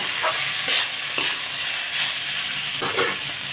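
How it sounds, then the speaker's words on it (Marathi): Green peas sautéed in a pan for matar pulao, a loud continuous sizzle with rhythmic stirring scrapes every second or so, close up and with no talking. "मटर पण आपण दोन तीन मिनटं छान परतून घेऊया"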